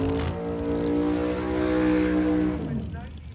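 Darwin Peterson's Hustle and Hillbilly Gasser drag race car roars loudly and steadily at a drag strip with a rich, droning engine tone, then drops away abruptly near the end.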